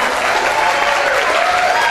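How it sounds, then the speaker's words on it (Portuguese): A studio audience gives a round of applause on a TV program, a dense, steady wash of clapping filling the whole stretch without any voices. "salva de palmas, gente."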